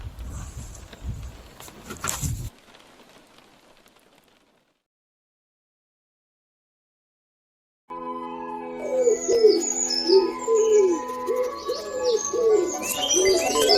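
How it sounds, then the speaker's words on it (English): Common city pigeons, or rock doves, coo in soft, repeated throaty phrases close by, with other bird chirps around them, after a stretch of silence. "The common city pigeon, formerly known as the rock dove, has more history than you may think."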